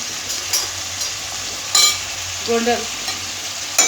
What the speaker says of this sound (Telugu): ఇది ఆనియన్స్ ఫ్రై చేసుకోండి